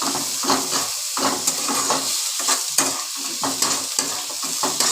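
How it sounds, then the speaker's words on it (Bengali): Lightly fried ingredients for steamed cabbage being stirred in a kadai, with repeated scraping strokes of a spatula against the metal pan over a constant close sizzle of hot oil. "আমি একটুখানি নেড়ে নিচ্ছি"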